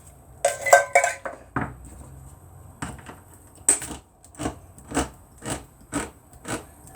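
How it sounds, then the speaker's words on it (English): Four cans of green beans in a crockpot stirred with a spoon, a run of sharp clinks and knocks against the pot, irregular at first and then settling into an evenly spaced tapping rhythm, close and fairly loud. "Then I'm going to give it a little stir."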